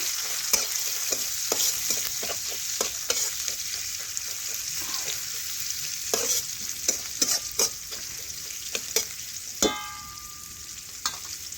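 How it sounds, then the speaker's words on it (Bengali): Onions sizzle steadily in a pan while a spatula clacks and scrapes in irregular strokes, close by and fairly loud. "পেঁয়াজ একটু ভালোভাবে লাল লাল করে ভেজে নিচ্ছি"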